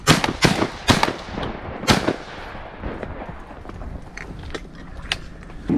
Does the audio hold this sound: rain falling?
no